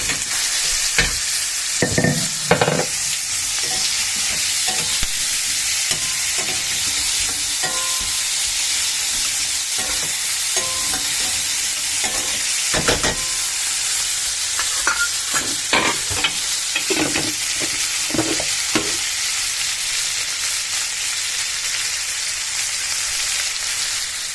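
Onion and potato fry in a pan, sizzling in a steady hiss while a utensil stirs and scrapes in irregular clatters and knocks, close and loud.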